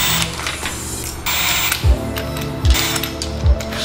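Lug nuts are worked loose with a socket while taking the wheels off an Acura TSX, giving mechanical whirring and three evenly spaced, sharp low knocks close by.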